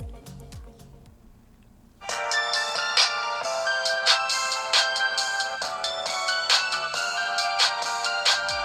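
A ringtone plays on the dual speakers of a Pocophone F1 phone, starting suddenly as a bright, repeating chiming melody at moderate volume.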